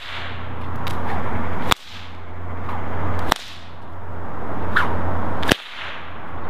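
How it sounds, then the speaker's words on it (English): A 5-foot cow whip cracks three times, each crack a sharp, loud snap spaced a second or two apart, with a steady breezy hiss between the cracks. "5-foot cow whip"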